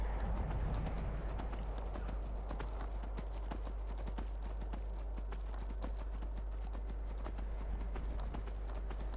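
Steady clip-clop of horse hooves at a brisk gait in The Elder Scrolls V: Skyrim, continuous and close, with faint game ambience behind.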